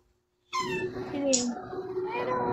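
A cat meows once, close and clear, in a drawn-out, wavering cry after a moment of silence, followed by a softer squeaky tail of sound.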